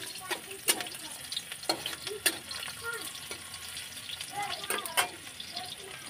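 Onions fry in a pan in a home kitchen, giving off a steady soft sizzle with scattered louder pops and stirring clicks. A voice talks quietly in the background.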